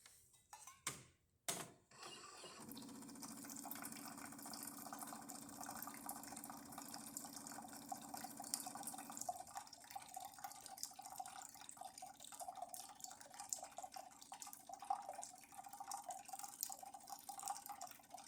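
Jura E8 coffee machine, just serviced after a full tune-up, dispenses hot water in a steady, faint trickling and pouring stream that runs for about fifteen seconds after a few sharp clicks, with no talking.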